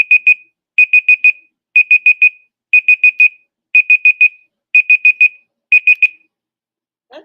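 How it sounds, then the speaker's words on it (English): A writing-sprint timer alarm rings loud and close in shrill bursts of four rapid beeps, repeating steadily about once a second with a short gap between bursts, then cuts off. "That timer is something else. It almost sounds like your smoke alarm, right?"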